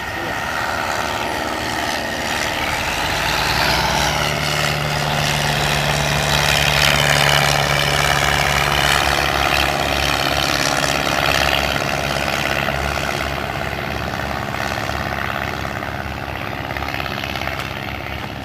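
A propeller airplane engine roars loudly and continuously at Oshkosh, swelling and slowly shifting pitch as the aircraft takes off and climbs away, with no voices.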